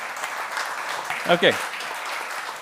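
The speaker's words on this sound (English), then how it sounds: "Now you can clap" Moderate applause from a conference audience, steady clapping throughout with a brief spoken word from a nearby voice partway through.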